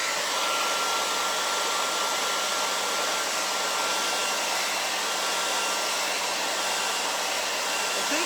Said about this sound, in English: I'm going to get my hydro and a hair dryer